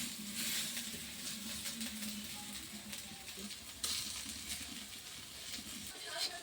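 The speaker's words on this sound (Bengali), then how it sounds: "একটু উল্টে পাল্টে মচমচা করে ভেজে দিই।" Banana blossom fritters crisping in hot oil, a soft continuous sizzle with faint stirring and turning, quiet and close.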